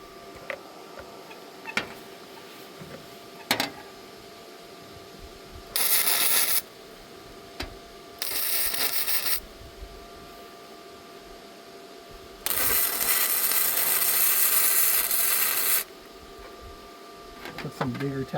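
Welding on an old Ford truck's cab floor with the amperage turned up, making tacks: three separate bursts of harsh crackling buzz, the last lasting about three seconds, between quiet stretches with scattered clicks.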